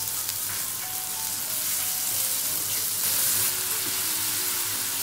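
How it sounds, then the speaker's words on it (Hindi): Sugar with grated raw mango cooks in a pan for sweet-sour rice, giving a steady close sizzle and bubbling hiss with faint stirring scrapes and no talking. "शुगर मेल्ट हो जाए तब तक इसे पकाना है 2 मिनट।"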